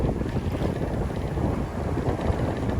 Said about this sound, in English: It's windy today, as you can see.